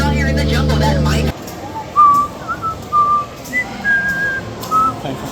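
A person whistles the Harry Potter theme outdoors in a jungle-themed area of a Disney theme park, a series of clear sustained notes heard over background crowd murmur after a brief burst of noise.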